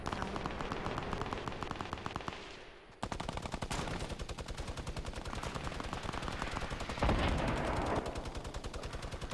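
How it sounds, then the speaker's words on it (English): Video game gunfire in a 50 versus 50 match: long bursts of rapid automatic shots, loud and dense, with a brief gap and a heavier blast near the end. "Dude, where are they shooting at?"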